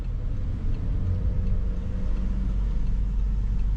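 A car driving along a city road, heard from inside as a steady low engine and road rumble, continuous and moderately loud with no talking.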